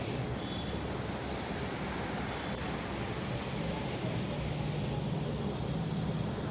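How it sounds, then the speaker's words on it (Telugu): Sea waves washing onto a Goa beach in the morning, a continuous broad roar of surf, close and steady, with no voices over it. "అలల సౌండ్ అది అబ్బో"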